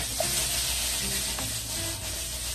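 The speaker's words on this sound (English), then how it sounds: "The idea is to roast them." Portobello mushrooms roast in oil in a pan, sending up a steady, close sizzle and crackle of frying with faint stirring noises, no voices over it.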